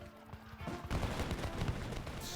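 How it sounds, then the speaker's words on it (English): Continuous volleys of musket gunfire crackle alongside dull, deep thuds of bullets striking soldiers in a British column during a Revolutionary War battle, forming a dense, steady barrage of overlapping shots. "The sound of bullets hitting soldiers."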